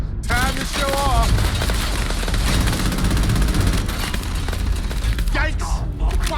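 Dense, loud gunfire from the space game Starfield rattles on continuously, with bursts of automatic fire and booms layered under a voice speaking at the start and again near the end.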